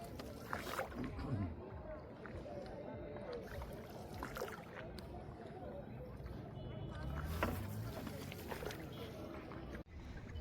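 Water sloshes and laps against a small boat as it moves along, with people talking nearby throughout.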